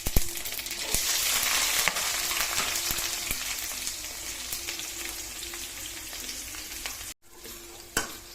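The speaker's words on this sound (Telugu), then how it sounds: "పప్పు తాలింపు వేసుకుందామండి." Tempering spices sizzle and crackle in hot oil for toor dal with bottle gourd, a steady dense frying hiss with occasional sharp pops and stirring clinks, briefly cutting out near the end before a final sputter.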